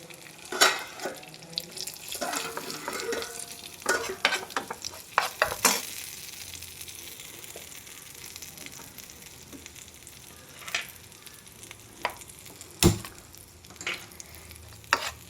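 Dried red chillies and chilli flakes get stirred into a pot of spinach dal, sharp clinks and scrapes of a spoon against the pan scattered over a quiet sizzling background, no one speaking.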